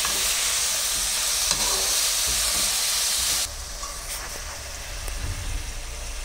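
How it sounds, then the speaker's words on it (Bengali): Grated carrot and beetroot fry in a pan with a loud, continuous close-up sizzle and hiss, dropping suddenly to a softer sizzle partway through, with faint stirring. "গাজর আর বিটটাকে আমি ভালো করে ভেজে নেব।"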